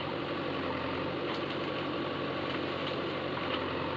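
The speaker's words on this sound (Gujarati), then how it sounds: "અહીંયા હાલે છે જેસીબી." The diesel engine of a JCB backhoe loader runs steadily nearby, a continuous low rumbling drone with a faint rattle and no speech.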